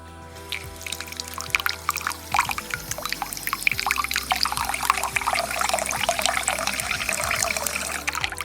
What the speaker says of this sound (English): First, add some water to your bulgur.